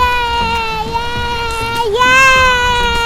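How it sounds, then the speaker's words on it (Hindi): A child's sustained, high wailing cry with a slight waver in pitch, loud and close, as children make noise while playing. "एक तो ये बच्चों का शोर बहुत है यार यहाँ पर।"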